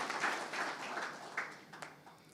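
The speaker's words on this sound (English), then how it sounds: "let us clap for ourselves for that excellent virtue." An audience at an architecture awards ceremony claps for itself in a soft, scattered patter that sounds distant and faint, then thins out toward the end.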